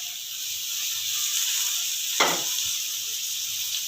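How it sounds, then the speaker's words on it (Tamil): Onions and tomatoes sauté in a pan, giving a faint, even sizzling hiss with one brief sharper crackle partway through. "வெங்காயம் வதங்கின உடனே இந்த தக்காளியும் போட்டு கொஞ்சம் நல்லா வதக்கிக்குவோம்"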